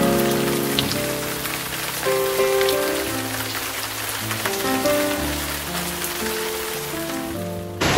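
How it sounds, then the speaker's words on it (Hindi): Heavy rain pours steadily on a surface while waiting out a downpour in the Ludhiana–Jalandhar area, a dense, continuous hiss of drops that stays loud and close throughout with no talking. "बारिश अब बहुत तेज़ हो रही है"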